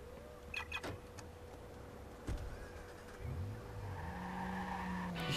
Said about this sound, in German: Ich liebe es, Autos zu schrotten.